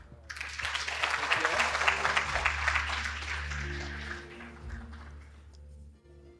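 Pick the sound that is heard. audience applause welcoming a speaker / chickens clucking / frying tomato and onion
audience applause welcoming a speaker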